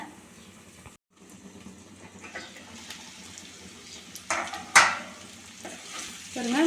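Okra and egg masala sizzles in a pan with a steady low frying hiss, while a spoon scrapes and stirs at intervals, ending in a few louder clatters.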